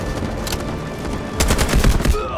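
Shotgun blasts in the Delta Force video game, a few loud booming shots close together in the second half over continuous in-game background noise.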